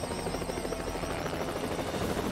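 A helicopter in the video game Hitman gives off a steady, pulsing rotor thrum with a whining engine drone, continuous and fairly close, with no speech.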